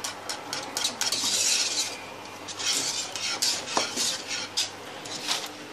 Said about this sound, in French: Voilà, je mélange.